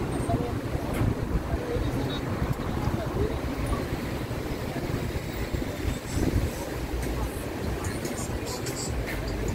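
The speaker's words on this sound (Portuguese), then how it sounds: "olha o vento, continua esse vento." Strong wind roars and buffets the microphone continuously, a dense rumbling gust noise that never lets up.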